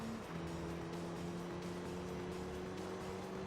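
In a racing video game, a car engine drones steadily at a fairly constant pitch after a brief shift near the start, a continuous quiet mechanical hum with no talk.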